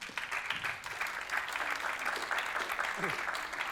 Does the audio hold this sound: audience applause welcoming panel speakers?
yes